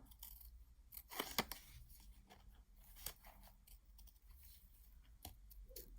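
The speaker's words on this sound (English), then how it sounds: "Let's turn my scissors the other way because I've got a natural bend in my scissors." Small curved nail scissors snip through nail decal sheets, giving quiet, sparse clicks and cuts with a sharper pair of snips near the start against a faint background.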